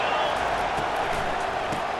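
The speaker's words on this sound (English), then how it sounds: "This crowd rising up, sensing that its defense needs some help." Stadium crowd noise from EA Sports College Football 25, a steady dense roar of cheering that swells continuously throughout and never drops away.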